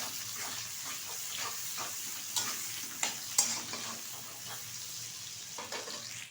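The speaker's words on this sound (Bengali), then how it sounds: "তেলের মধ্যে দিয়ে দিচ্ছি একটা বড় সাইজের কুচিয়ে রাখা পেঁয়াজ। পেঁয়াজটা একটু ভেজে নেব।" A large chopped onion frying in hot oil for mixed fried rice gives a steady, close sizzle with occasional stirring scrapes and a few sharper spatters, with no talking.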